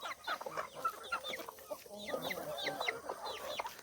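A flock of chickens clucks busily in the early morning while pecking at scattered rice, with rapid overlapping clucks and calls heard from close by but fairly softly.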